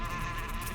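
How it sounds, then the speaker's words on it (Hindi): Bees buzz around a beehive, a close, dense, steady droning hum with no pauses over a brief moment. "और मधुमक्खी के छत्ते को छेड़ना"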